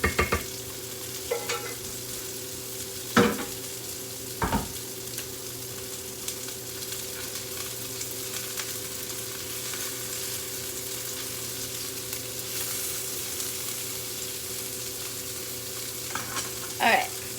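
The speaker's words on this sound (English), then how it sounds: "take it and empty this that we have cooked into our mixture here" Cooked food is emptied into a mixture in a kitchen and stirred, a quiet, continuous background with a few sharp scraping clacks of the utensil against the dish and no speech.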